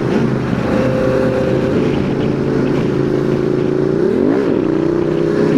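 A motorcycle cruises in fifth gear along a rural Felda road at sunset, its engine droning loud and steady with a brief pitch dip and rise near the end, wind rush beneath.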